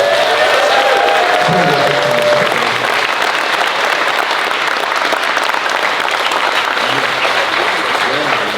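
A gym crowd at a bodybuilding seminar with a famous bodybuilder claps in a steady, dense round that fills the room, with a few voices and cheers mixed in near the start.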